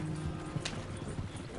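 Horse hooves clip-clopping at a quick pace while riding in Red Dead Redemption 2, a short run of soft, close thuds over low background rumble.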